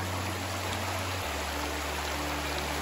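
Small creek flowing into Station Camp Creek in Big South Fork, a steady close rushing and trickling of water with a low hum underneath, no speech.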